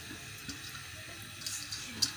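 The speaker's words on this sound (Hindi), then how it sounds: "अब हम इसको ये परात को अच्छे से साफ़ कर लेंगे।" Tap water runs while a large parat tray is washed in a sink, a soft steady trickle with small splashes and a brighter clink near the end, close and fairly quiet.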